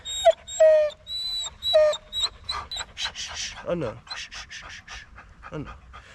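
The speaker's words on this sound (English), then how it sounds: "the best thing to bring camping with you is a dog" A dog on a solo wild camping trip pants in quick, close breaths mixed with high whimpers and yips, while a person speaks briefly in between.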